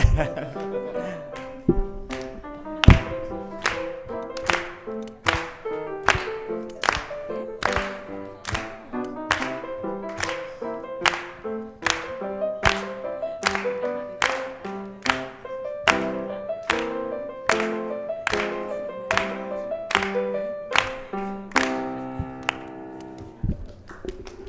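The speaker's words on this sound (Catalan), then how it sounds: "Podeu aplaudir" An audience claps steadily in time with music at a presentation event, sharp even beats repeating for the whole stretch over a melodic backing track.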